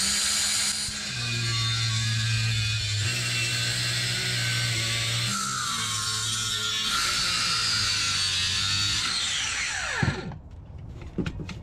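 A power tool cutting the old clutch pedal off the firewall of a right-hand-drive 1988–91 Honda Civic/CRX gives a loud, steady high-pitched whine with a low motor drone for about ten seconds, then winds down abruptly.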